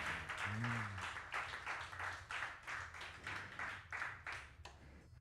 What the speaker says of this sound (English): give Vlad a round of applause for making me sound good tonight